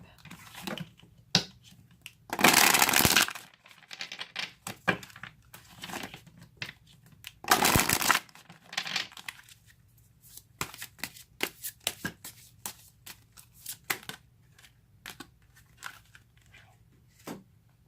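Cards being shuffled during a tarot-style reading, two loud riffling bursts close by plus many soft ticks and slides of handled cards, with a voice talking quietly at times.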